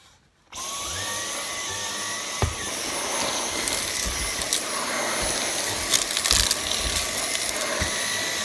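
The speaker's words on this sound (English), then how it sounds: "I have decided that vacuum does not really work that well in the car." A vacuum cleaner switches on inside a car and keeps up a steady, loud whine, with occasional clunks and rattles as the nozzle moves around.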